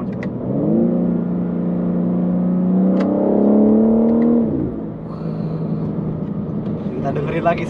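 A BMW M4 Competition engine revs up and holds a rising whine, drops briefly during a manual gear shift, then climbs again before settling into a lower hum.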